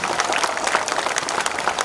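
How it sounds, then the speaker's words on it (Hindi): Dense, steady applause from a large crowd at a political party workers' convention in Dharavi, continuous clapping filling the hall with no talk over it. "जोरदार तालियों से इनका स्वागत कीजिए"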